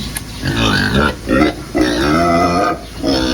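Small-breed pigs about two months old grunt in a farm pen, a steady series of low, rough grunts and snorts in close succession, loud and near.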